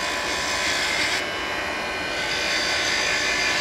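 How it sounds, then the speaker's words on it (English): Wood lathe spinning a spindle workpiece while a detail gouge cuts it, a continuous loud whirring hiss with a steady motor drone, the cutting tone shifting slightly partway through, no talking. "The reason I'm switching now to a detail gouge is because I can get in a lot tighter than I could with that other one"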